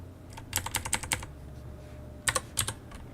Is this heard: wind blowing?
no